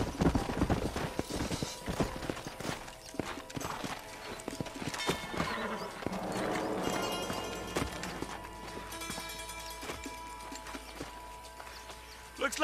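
Horses trotting in the Red Dead Redemption video game, a rhythmic clip-clop of hooves mixed with a brief whinny, layered under game music and voices talking throughout.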